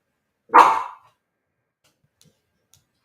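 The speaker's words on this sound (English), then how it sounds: "That was my dog." A dog gives one sharp, loud bark close by, followed by near silence with a few faint ticks.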